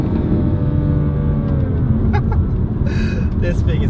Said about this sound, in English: So now traction off, foot down, drop a gear